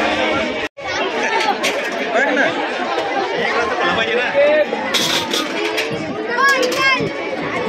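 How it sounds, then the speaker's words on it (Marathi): A dense crowd at a buffalo fair in Thane district chatters without pause, a close, loud babble of many overlapping voices, with a few children's voices and brief higher calls mixed in. "माणसं पण हलत नाही तेवढी गर्दी आहे."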